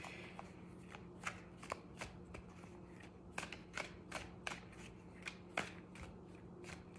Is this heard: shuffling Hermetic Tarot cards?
yes